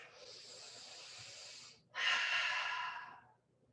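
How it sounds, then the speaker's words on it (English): Slow controlled breathing during a yoga twist, one long inhale followed by a louder, fuller exhale, close and alone. "Breathing here now for 3."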